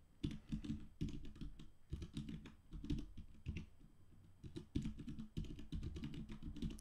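Rapid clicking keystrokes on a computer keyboard while a password is typed during a Linux Mint setup on VirtualBox, quick clusters of taps with short pauses, close and quiet.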